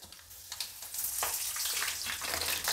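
Curry leaves dropped into hot oil with mustard seeds for a lentil rasam, a steady close crackling sizzle with small pops running throughout, no talking.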